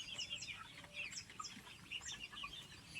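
Chickens kept by a household, now fully grown, chirp and cluck in a steady scatter of short calls, some near and some farther off, with a constant low hum underneath and no talking.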